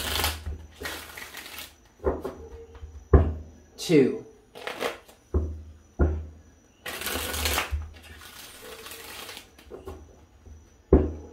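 Repeated bursts of cards being riffle-shuffled, several separate shuffles with short pauses, while a person counts aloud between them.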